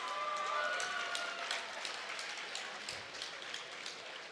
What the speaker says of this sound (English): a round of applause for two great fighters